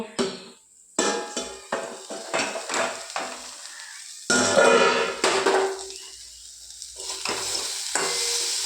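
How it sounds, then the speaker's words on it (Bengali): Pointed gourd and other vegetables sizzle in a hot pan while a spatula scrapes and clatters repeatedly, with pauses between bursts of stirring; close and moderately loud. "কিছুক্ষণ ভেজে নেব সবজিগুলো"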